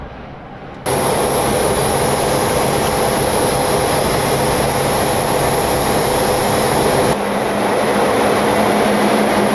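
Steady loud roar inside the cockpit of a Boeing 727-200 climbing out after takeoff, with the landing gear retracting under broadband engine and airflow noise that shifts slightly in level near the end.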